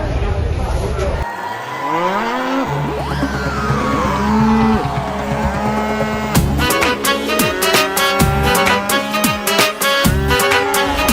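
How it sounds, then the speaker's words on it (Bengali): Cattle moo loudly and repeatedly at a busy livestock market, the Moizzartek cattle market in Bangladesh ahead of Qurbani, amid a noisy crowd with people talking and calling out throughout. "এখানে কিছু ছোট সাইজের গরু আছে"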